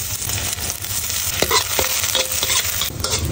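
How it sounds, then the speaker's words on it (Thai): Garlic stir-fried in a hot pan for a cabbage and omelette dish gives a bright, continuous sizzle with repeated spatula scrapes and clacks against the metal, close and fairly loud, with no speech. "ผัดให้หอมสุยเลยนะครับ"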